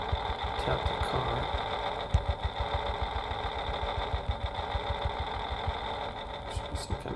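A video game car engine turns over and settles into a steady idle, a fast, even mechanical chugging that runs continuously at moderate level with a few brief clicks on top.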